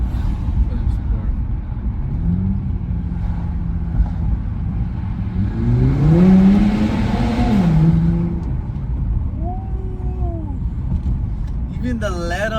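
Turbocharged engine of an Infiniti Q60 Red Sport fitted with Stillen intakes, revving inside a tunnel: a steady drone rises into a strong surge around the middle, then eases off, with people talking over it throughout.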